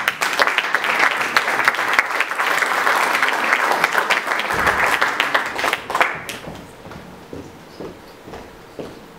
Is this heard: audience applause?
yes